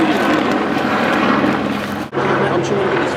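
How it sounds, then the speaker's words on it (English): A loud, continuous rotor-and-engine roar from aircraft overhead fills the air, briefly dipping before returning at full strength. "Wonder why the helicopters are here."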